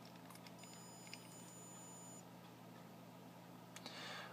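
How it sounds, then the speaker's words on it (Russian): The buzzer on an Arduino MQ-2 gas sensor beeps as lighter gas reaches the sensor. A thin, high, steady tone sounds for about a second and a half, faint and close, over a low background hum. "И динамик стал пищать."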